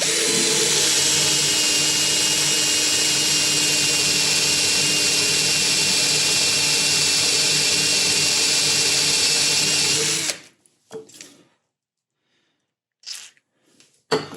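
A power drill boring a 20 mm deep hole for a motor mount runs loud and steady for about ten seconds, then cuts off, followed by a few brief handling noises and short whirs.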